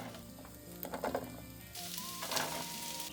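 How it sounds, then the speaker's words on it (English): Eggplant sizzles in hot olive oil in a heated pan, a steady frying hiss that swells and brightens partway through, with a few scrapes and clinks of stirring and no talk. "Once the pan is heated, I add eggplant."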